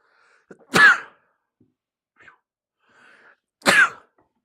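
Two sharp sneezes ring out a few seconds apart, loud and close, each with a short intake before it.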